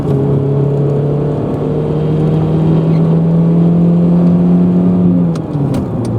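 A car engine on a road trip drones steadily under load, the tone rising and holding through the gears before dropping as third gear kicks out, with a few faint clicks at the end; no talk.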